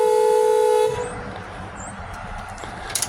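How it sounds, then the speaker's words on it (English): A 1951 Plymouth with a Toyota body swap sounds its horn once from inside the car: a steady, loud, slightly old-fashioned toot lasting just under a second, then fading into quiet background noise. "I'm going to try the horns from inside the car so they're not that loud on the camera"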